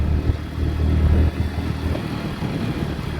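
A motorcycle being ridden without stopping gives a loud, close, continuous low engine drone with rough rumble and a slight rise and dip in throttle, and no one speaks.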